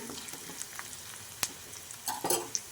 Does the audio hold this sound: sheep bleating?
no